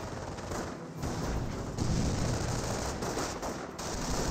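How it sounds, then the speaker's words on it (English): German grenadiers toss a grenade in the Company of Heroes 1 strategy game, amid a loud, continuous battlefield din of rapid gunfire bursts and heavy thuds, with no talking. "Grenadiers are throwing a grenade."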